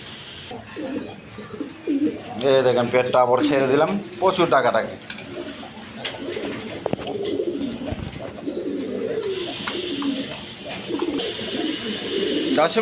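Pigeons of various breeds kept for sale coo and call repeatedly in the background while someone talks over them almost throughout.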